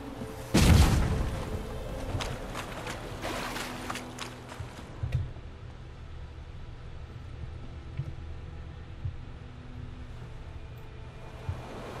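A bomb bursts in The Witcher 3 with one sharp, loud blast near the start, followed by scattered crackling debris and softer thuds that fade into quiet game ambience.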